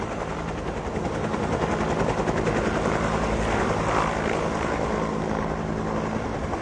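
A helicopter flies low over Waikiki, its rotor chop a steady loud throbbing that fills the air throughout.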